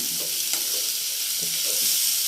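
Onion curry sizzles loudly in a pan, with a dense hiss of frying and light scraping as it is stirred; no voices.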